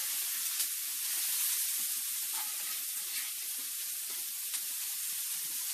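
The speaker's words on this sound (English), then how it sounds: "we're gonna add these to the grill. Ready for the sizzle?" Food sizzles steadily on a hot grill during home meal prep, a continuous bright hiss with faint crackles and pops.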